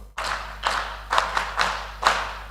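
At a regional criminal justice conference, an audience claps together on cue, about half a dozen sharp synchronized claps spaced roughly evenly over a couple of seconds, with room echo behind.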